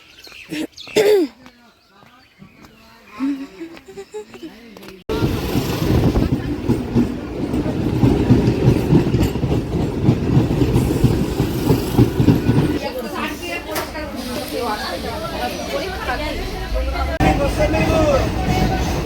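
Train pulling into a railway station, a loud steady rumble and rattle of rail cars with crowd babble, preceded by a few seconds of quieter talk and movement.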